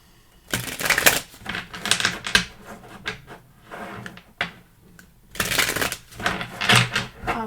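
Playing cards are shuffled and riffled in repeated bursts of crisp, papery rattling, close up, with brief pauses between rounds, during a tarot-style card reading.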